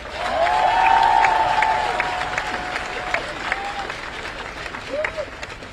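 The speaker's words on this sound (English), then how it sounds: "please join me in giving our ownership group a round of applause" A crowd at the Orlando Pride NWSL championship celebration applauds and cheers, dense clapping with a few shrill whistles, loud at first and slowly tapering off.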